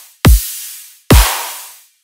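Two heavy dubstep drum hits land about a second apart, each a deep booming thump layered with a bright noisy crack that decays slowly, loud and dry with nothing else playing.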